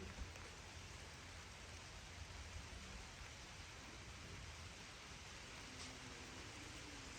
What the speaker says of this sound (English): So it's starting to rain now. Can you hear it?